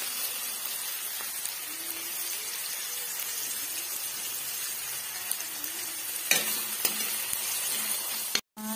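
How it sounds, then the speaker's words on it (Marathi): Tomatoes with salt frying in a pan for a Maharashtrian val curry, giving a faint, steady sizzle with occasional stirring scrapes and a couple of sharp utensil clinks near the end, with no voices. "टोमॅटो टाकल्यानंतर खूप छान मस्त शिजवून घ्यायचं आहे"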